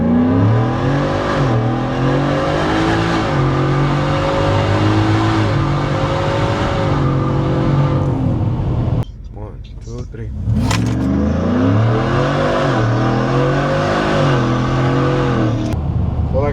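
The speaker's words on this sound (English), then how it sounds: "I'm gonna do a little 4x4 dig. It's in 4x4 right now, and I'm not even gonna launch. I'm gonna just take off" Whipple stage one supercharged Ford F150 pickup in 4x4 pulls away hard, engine roaring and climbing through rising revs with a gear change, briefly dipping near the middle before surging again, loud and close from inside the cab with a voice over it.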